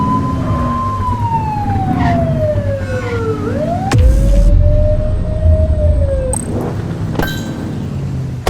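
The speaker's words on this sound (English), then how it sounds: "Get on their tail and flip the siren." A police siren in a video game wails in long falling and rising sweeps, cutting off abruptly twice, over a loud rumbling engine and road noise.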